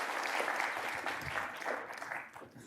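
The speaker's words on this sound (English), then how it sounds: "we're another round of applause after those great presentations" Dense audience applause for presenters at an artificial intelligence talk fills the room continuously, loud and steady before tapering slightly toward the end.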